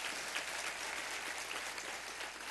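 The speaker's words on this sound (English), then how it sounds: "Let's give him a round of applause" Luncheon audience at a Latino Leaders gathering applauds a guest, a steady, even wash of many hands clapping for a couple of seconds with no voices over it.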